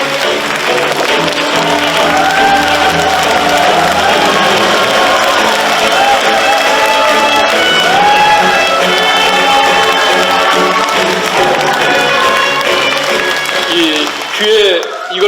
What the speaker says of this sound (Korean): 그럼 뜨거운 박수로 박효택 국회의원님을 무대로 모시겠습니다.